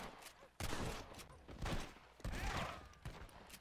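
Rapid pistol shots from a Volcanic pistol in the Western video game Red Dead Redemption, several loud sharp cracks in quick bursts with short gaps between volleys.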